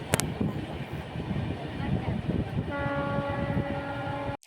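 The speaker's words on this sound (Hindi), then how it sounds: "अब हमारी ट्रेन बरौनी जंक्शन से खुल गई है और वह अपने नए पड़ाव की तरफ चलते ही।" Janhit Express passenger train running on rails between Barauni and Begusarai in Bihar, India, with a continuous rumbling roll of wheels on track and a sustained horn blast sounding in the latter half.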